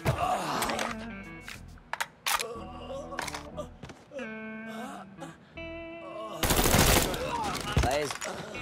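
Gunfire in a shootout in the video game Mafia III, loud rapid bursts and single shots with ringing tonal game effects and a dense blast near the end, with voices talking over the action.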